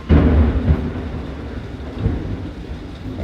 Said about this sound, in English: Raining and sunshine, raining and then sunshine, off and on all day.